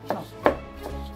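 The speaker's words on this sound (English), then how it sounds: "Chop the ginger off the ginger skin" A knife chops ginger on a cutting board with three crisp, evenly spaced strikes, close and clear with nothing else heard.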